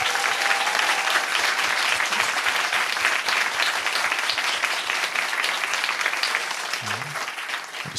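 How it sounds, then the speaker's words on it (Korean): A church congregation at a Christmas thanksgiving service bursts into sustained, thick applause that holds loud and steady throughout, tapering only slightly near the end. "오늘 우리 진심 어린 감사와 기쁨과 환호의 박수를 우리 주님께"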